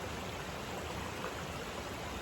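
A small, clear mountain creek on the Timberline Trail flows continuously with a soft, even rush of water, close and unbroken, with no voices.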